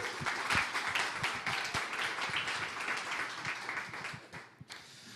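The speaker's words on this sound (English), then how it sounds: "huge round of applause for all of the companies pitching tonight" Evening startup pitch event audience giving a big round of applause for the pitching companies: dense, continuous clapping from a crowd that thins and fades near the end.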